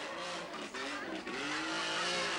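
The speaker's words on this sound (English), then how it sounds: "listen to the noise of that engine" Little Suzuki 3-cylinder off-road vehicle at a 1984 bog event, engine revving hard with a raspy, loud, sustained roar that dips briefly and climbs again.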